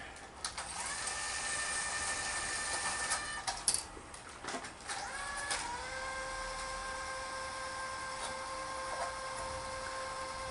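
A Sanyo 6800 Betacord Betamax video recorder rewinds a tape: a continuous mechanical whir with rising whining tones, broken by a few clicks and clunks of the transport mechanism, close and fairly quiet, with no voices.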